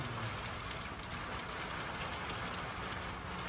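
Rain falls steadily in a dense, even hiss with no breaks, close and continuous for a few seconds, heard alone without voices.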